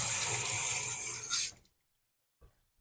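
Water gushes steadily while a Pinter beer brewing vessel is rinsed out, a loud continuous rush of running water that cuts off abruptly, followed by a brief soft knock.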